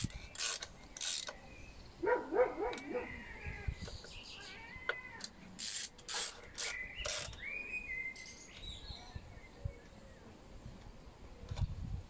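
A ratchet clicks in short turns while rocker cover bolts on a 2002 Vauxhall Zafira are tightened, quiet close clicking bursts with a cat meowing in between.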